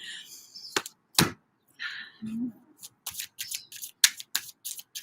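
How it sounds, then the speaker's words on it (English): A tarot card deck is shuffled by hand in a quiet room: sharp papery snaps and flutters arrive in uneven bursts, a few isolated at first, then a quick run of crisp riffles and taps. "I feel like I'm shuffling so angrily."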